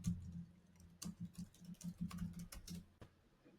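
Someone types a short message on a computer keyboard, giving soft, quick clusters of key clicks with brief pauses between them, close and faint, with no talking.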